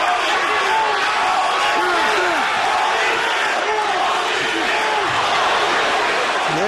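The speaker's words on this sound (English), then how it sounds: "There's that same Holyfield chant that we heard when he fought Mike Tyson" Crowd at an Evander Holyfield versus Fres Oquendo boxing match chanting Holyfield's name, a loud, steady, rhythmic arena roar of many voices.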